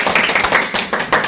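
An audience claps for a lecturer at a Buddhist studies lecture hall, a brief burst of steady, close applause with no talk over it.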